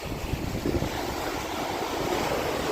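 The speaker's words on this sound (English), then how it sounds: "Good old loud, noisy water straight from good old world famous Mount Hood" Loud, steady rushing water roars continuously with a broad hiss, close and unbroken, mixed with some wind buffeting the microphone, near Ramona Falls below Mount Hood.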